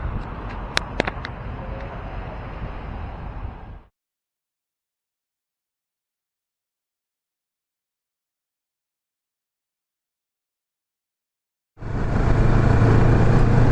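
A 2020 Kawasaki Vulcan S 650 SE motorcycle rides on the road, its engine drone and wind noise close and steady, cut off by a long stretch of silence before the riding sound resumes loudly.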